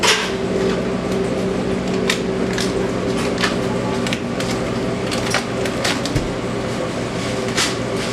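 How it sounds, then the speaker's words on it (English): A stand mixer with a paddle attachment beats butter in a pastry shop kitchen, giving a steady mechanical hum and whir with light irregular clicks and knocks, continuous and fairly close, with no talking. "To start mixing, we're going to be using a paddle attachment on our mixer"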